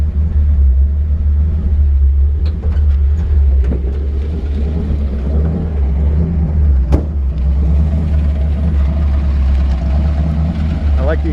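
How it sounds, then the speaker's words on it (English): A 1966 Ford F100 pickup idles through its exhaust, a deep steady low rumble close by with a few small clicks and knocks over it. "I like the exhaust, it sounds nice."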